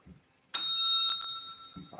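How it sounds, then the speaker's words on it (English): A service bell is struck once, giving a bright, sharp ring that hangs and slowly fades for over a second, with brief faint voices just before and after. "Ring the bell for service."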